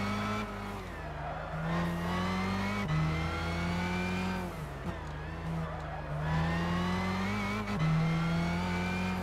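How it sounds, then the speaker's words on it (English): Race car engine in Gran Turismo 6 revving up and dropping repeatedly as it accelerates and brakes through a tricky section, steady loud harmonic drone with pitch shifts and brief tire squeals, no talking. "This is like the really dangerous section because there's so much accelerating and braking."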